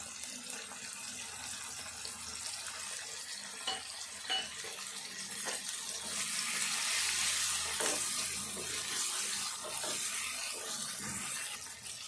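Egg curry ingredients with fenugreek leaves frying in a pan, a continuous hissing sizzle that swells louder midway, with occasional faint stirring clicks and no talk.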